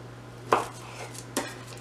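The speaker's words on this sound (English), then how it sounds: "you can just cut those into triangles and then just put them on your baking sheet" A sharp knife slices through maple pecan scone dough on a board, two distinct chopping thuds about a second apart over a steady low hum.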